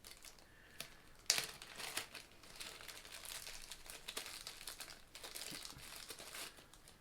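A plastic bag holding an alcohol burner crinkles and rustles close by, with a sharp crackle early on and then steady soft crumpling for several seconds, with no voices.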